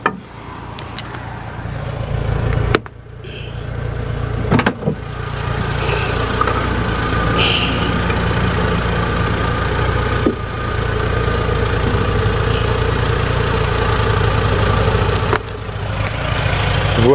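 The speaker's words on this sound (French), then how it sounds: "c'est un moteur 16 soupapes de Renault Mégane" A Renault Mégane 16-valve engine, fitted in a trike, idles steadily up close, a constant low hum and rattle broken by a few brief knocks and clicks.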